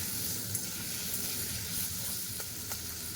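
Scraped potatoes fry in oil in a pan, giving a constant close sizzle with a few sharp crackles and spits.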